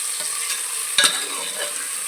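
Garlic and onion fry loudly for a mushroom curry base in a pressure cooker, a dense close sizzle with stirring strokes and one heavier knock near the middle.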